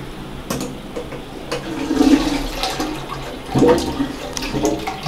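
A hotel room toilet flushes close by, a rushing gurgle of water swelling and then draining away, with a second surge near the end.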